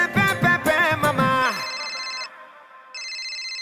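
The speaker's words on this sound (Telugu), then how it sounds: "ఎవరు ఫోన్ చేశారు? ఆపు ఆపు ఎయిర్ప్లేన్ మోడ్." A phone rings in a kids' dance class as the dance music cuts out, leaving two bursts of bright electronic ringtone tones separated by a short gap.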